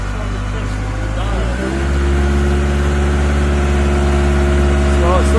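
A 2021 Caterpillar 910 wheel loader's engine runs loud and steady near full throttle, a low droning roar that deepens and strengthens partway through, with people talking over it.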